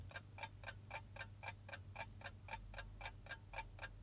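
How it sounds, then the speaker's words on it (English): A clock ticks steadily and evenly, about four ticks per second, over a low constant hum in a quiet room. "something else that makes a sound is the clock, ticking."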